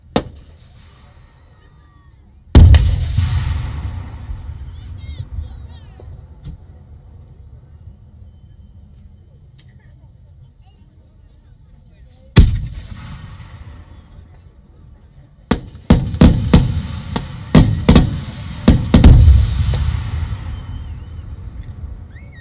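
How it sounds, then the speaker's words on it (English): Fireworks track from a German competition demo disc played loud through an upgraded sound system in a Renault Clio Trophy, with deep booming bursts at intervals and a rapid cluster of cracking blasts near the end. "German Aya competition disc. The fireworks track."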